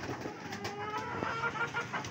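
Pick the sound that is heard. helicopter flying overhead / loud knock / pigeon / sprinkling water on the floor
pigeon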